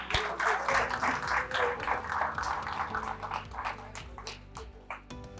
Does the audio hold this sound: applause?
yes